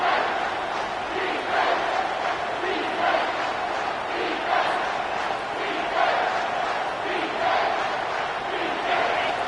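A loud football stadium crowd roars on third and goal at an NCAA game, a dense sustained wall of noise with rhythmic surges and swells throughout.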